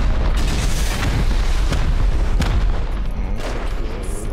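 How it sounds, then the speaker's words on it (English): Rockets slam into a stone frame in the video game Rust, a dense series of loud booming explosions and rumbling impacts arriving close together during a base raid, with no voices. "Four rockets on the stone frame."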